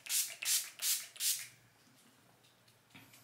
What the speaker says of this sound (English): Last step has to be some setting spray.